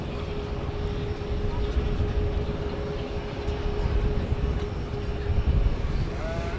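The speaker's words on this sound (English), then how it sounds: "So this plane is going over to the east side for takeoff to Louisville is where that's going." A jet taxiing toward the runway for takeoff at DFW Airport at night: a steady, moderately loud engine rumble and whine holding throughout, heard from a distance.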